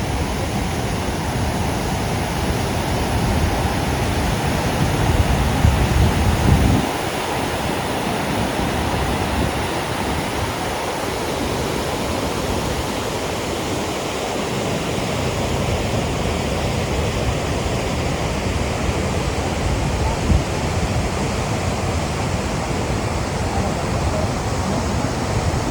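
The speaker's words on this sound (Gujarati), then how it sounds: "ડેમના દરવાજા ખુલ્લા છે એટલે પાણીનો જે ઉપરથી પથ્થર ઉપરથી જે નીચે આવે છે" Water released through the open gates of Khodiyar Dam near Dhari pours down over rocks in a loud, constant roar, a broad unbroken rush with faint gusts of wind and no voices.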